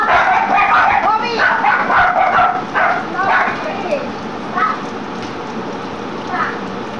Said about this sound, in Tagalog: Makaingay ng dalawang aso.